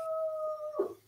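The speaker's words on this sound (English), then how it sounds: "I can hear my dog." A dog howls in a long, steady, sustained tone that ends in a brief whimpering break, heard near and clear against a quiet room with no talk.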